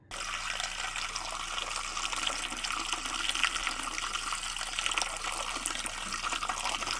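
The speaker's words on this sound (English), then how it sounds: "Let's hear the freshwater pump." Freshwater pump on a boat pushing water out through the galley faucet, a steady broadband rush of running water that starts abruptly and continues evenly and close up, with no voices.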